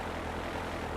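Airplane engine in the GTA III video game, a constant broad droning roar of propeller-like noise at moderate level, heard alone with no talk.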